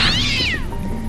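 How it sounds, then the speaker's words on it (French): A cat gives one loud, drawn-out meow with a wailing, falling pitch, close and alone, introducing a Halloween tale. "le chat."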